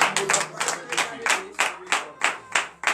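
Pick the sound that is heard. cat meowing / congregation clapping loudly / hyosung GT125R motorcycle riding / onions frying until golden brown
congregation clapping loudly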